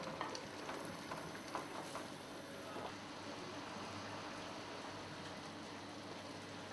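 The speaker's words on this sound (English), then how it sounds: "I'm putting the mushrooms in now, which will cook further in the oven." Mushrooms frying in a pan in a home kitchen, with a faint, even crackling sizzle that continues throughout and a few soft clicks near the start, and no voices.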